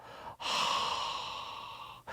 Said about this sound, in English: you'll come back down, breathing it out from the mouth